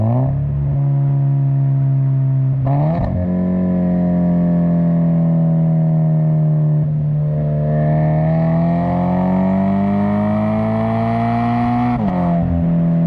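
A loud aftermarket car exhaust on a Toyota Supra with a ZF 8-speed automatic drones at a steady pitch, then blips sharply through several downshifts, the engine note rising and falling with each shift.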